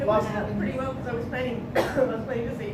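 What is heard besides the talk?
No everyday noises stand out.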